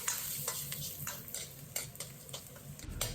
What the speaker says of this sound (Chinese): 油热以后，放入蒜子、干辣椒，爆出香味